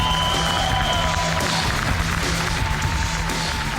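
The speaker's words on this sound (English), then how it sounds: "Bit of a reaction from the crowd" Arena crowd at a DreamHack Pro Circuit Leipzig 2019 esports semifinal applauding and cheering as team Dignitas takes the stage, a steady broad wash of clapping held under a faint announcer tone throughout.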